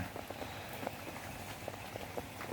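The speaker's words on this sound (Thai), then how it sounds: "เช้าวันที่ฝนตกวันนี้นะ เนี่ยครับชุ่มฉ่ำเลยนะฝนตกนะ" Steady rain falls on a morning, a soft even hiss with scattered close drips and patters tapping on surfaces, continuous throughout with no voices.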